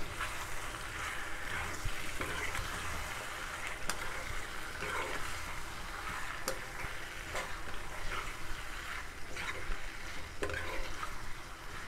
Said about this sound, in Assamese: মই এতিয়া দিম বয়লাৰ মাংসখিনি এতিয়া মই ভালদৰে লৰাই দিম